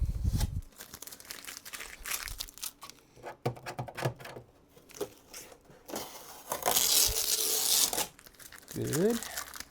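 Tape residue and nylon bits being peeled from a Snapmaker U1 3D printer during unboxing, close crinkling and tearing sounds in uneven bursts, with a voice talking over them.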